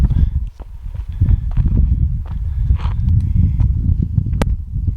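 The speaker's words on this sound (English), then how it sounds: "Got horses literally right on the trail." Horses walk close by on a trail, hooves clopping unevenly on the ground, with some rustling around them.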